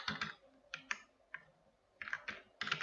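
Short bursts of computer keyboard typing, clusters of quick clicky keystrokes separated by brief pauses, close and fairly quiet.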